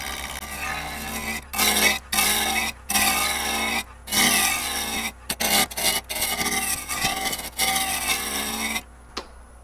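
A lathe gouge cuts spinning bocote wood, a loud rasping scrape coming in repeated bursts with short silent gaps as the tool lifts and re-engages, close up and with no talk.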